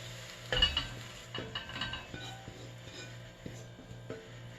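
Clinks and scrapes of a utensil against a pan and plate, with a faint sizzle underneath, as slightly underdone cooked eggs are moved across.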